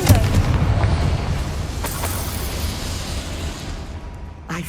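A Confringo fire spell explodes in a wizarding action game, a booming blast with a rumbling tail that fades over a few seconds, followed by a few fainter pops.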